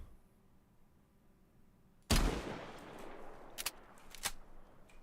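A single loud rifle shot from the video game DayZ cracks out of near silence, followed by a reverberant tail and two more sharp shots soon after.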